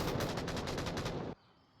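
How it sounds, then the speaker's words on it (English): Dense automatic gunfire in the VR shooter Onward, during a competitive team match: loud rapid bursts rattle nonstop for about a second and a half, then cut off abruptly to near silence. "Gunfire coming out from Garganizer."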